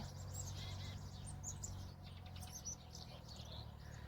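Several birds chirp and tweet in quick, high bursts, fairly close, over a soft outdoor hush with no talking.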